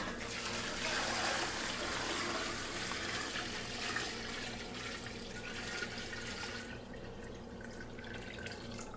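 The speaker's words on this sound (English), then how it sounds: "we're going to add cold water, just enough cold water to cover these bones" Cold water poured from a tap into a pot of beef bones for brown stock, a steady rushing, splashing flow close by that eases slightly toward the end.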